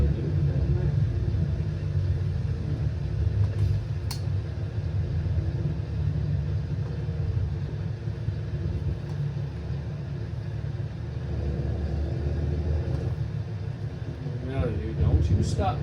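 Truck engine in American Truck Simulator throttling on a delivery run in Vernal, Utah, a steady low rumbling drone that holds throughout with small swells, under someone talking.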